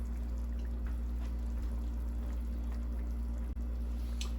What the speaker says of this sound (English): I'm going to take a moment to wash this fork off